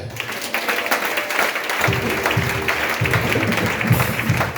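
Church congregation applauding during a French-language worship service, steady dense clapping from a crowd throughout, moderately loud and slightly distant.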